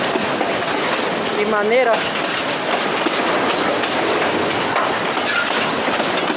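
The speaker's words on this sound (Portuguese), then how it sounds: "Também os vagões balançando, ó." Freight train wagons rattle and clack steadily past a level crossing, loud and close, with a faint wheel squeal, while a person speaks briefly over the noise.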